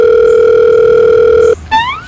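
A steady telephone dial tone hums loud and close for about one and a half seconds, then cuts off and gives way to a short rising electronic chirp as a call is placed.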